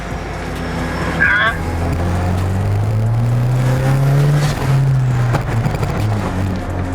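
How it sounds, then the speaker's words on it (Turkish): A car engine runs at a steady low drone that rises slightly as it revs, close and fairly loud, with people talking over it inside the vehicle. "Arabanın sesini seviyor musun?"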